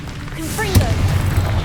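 A Confringo fire spell in the Hogwarts Legacy video game bursts into a sharp explosion followed by a rumbling low boom, with a voice shouting just before the blast.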